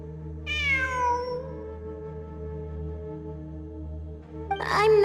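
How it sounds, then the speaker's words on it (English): A cat in Genshin Impact gives a clear, drawn-out meow with a bright harmonic rise, heard alone over a steady low game-music drone, followed by a louder burst of effects near the end. "It really is a cat."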